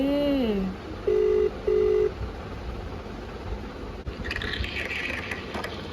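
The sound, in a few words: video call ringing tone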